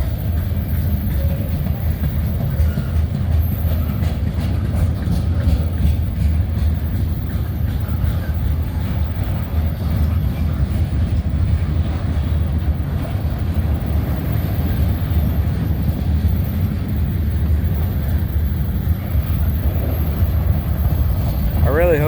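A heavy freight train loaded with aluminum ingots rolls past with a continuous low rumble and steady rail noise throughout, while a voice talks faintly over it.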